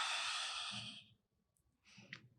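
A soft, breathy exhale during a yoga lower back release, lasting about a second and fading into quiet before a second, fainter breath near the end.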